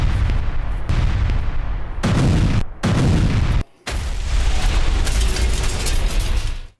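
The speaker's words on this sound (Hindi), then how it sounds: "इस पूरे हमले में जोरदार धमाके की आवाज सुनी जा सकती है" Several loud, heavy explosions roar one after another during a Russian military strike in Donetsk, separated by brief near-silent gaps, with a rumbling, crackling tail after each blast.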